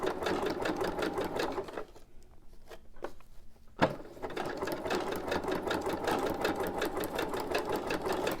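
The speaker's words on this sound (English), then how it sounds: "I have no idea why my sewing machine just turned off like that." A sewing machine runs in rapid, even stitching bursts, pauses briefly with a couple of clicks, then resumes its fast mechanical rhythm close up.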